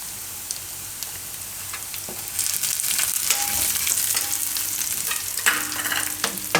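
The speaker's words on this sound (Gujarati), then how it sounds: "થોડાક આપણે લીલા મરચાં નાખીશું તીખાસ પ્રમાણે" Green chilies fry in a pan with a close, crackling sizzle that grows louder partway through, while a utensil stirs and scrapes at irregular intervals. No one talks.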